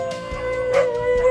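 A dog howls at a dog shelter in Goa, a sustained, slightly falling tonal wail close by, accompanied by a few short yips and scuffling noises, with no speech over it.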